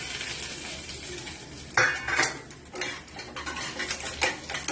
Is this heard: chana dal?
yes